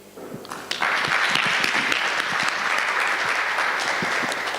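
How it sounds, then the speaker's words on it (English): Audience applause after a talk at a healthcare conference, starting quietly and quickly swelling into steady, close, dense clapping that continues throughout. "A better round of applause, please."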